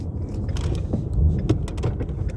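A manual car being downshifted into third gear with a rev-matching throttle blip: steady engine and road rumble throughout, with a brief swell in revs around the middle.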